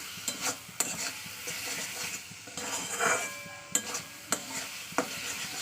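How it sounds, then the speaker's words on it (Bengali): Spices are sautéed with potato and pointed gourd in a pan for a katla fish curry, producing a soft sizzle under repeated scraping stirs and several crisp taps of the spatula on the metal, with no speech. "ভালো করে আমি কষে নিচ্ছি সমস্ত মশলা একসঙ্গে সবজির সঙ্গে আলু পটলের সঙ্গে"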